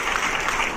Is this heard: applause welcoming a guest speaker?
yes